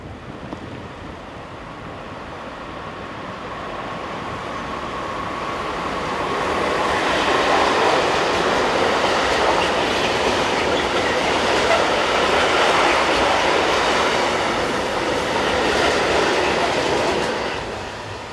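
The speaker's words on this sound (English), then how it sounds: "193219 heads train DGS 95084 from Burdop to Hamburg." Freight train DGS 95084 hauled by locomotive 193219 passing on the busy German mainline between Fulda and Bad Hersfeld, a steady roar of wagons building as it nears and holding loud for several seconds before easing.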